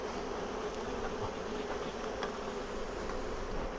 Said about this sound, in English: the bees are getting a little bit toey. Trying to sting my fingers there